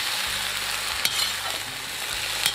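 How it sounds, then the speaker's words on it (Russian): Potatoes frying in a kazan, a dense continuous sizzle with occasional scraping stirs of a utensil against the pot, steady and close with no talk. "Немножко поджарю картошечку."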